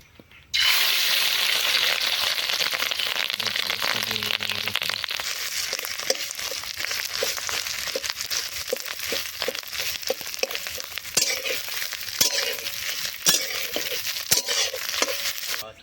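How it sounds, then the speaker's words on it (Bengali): Fish roe frying in a pan while cooking outdoors, giving a loud, steady sizzle that runs unbroken for the whole stretch, dotted with sharp crackles and pops. "এখন আমাদের মাছের ডিম ভাজা হবে"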